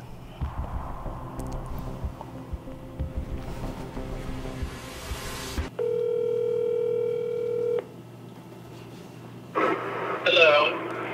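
A phone call placed from a mobile: a steady ringback tone sounds for about two seconds, clear and close, after a stretch of background noise and talk, with a voice picking up afterward.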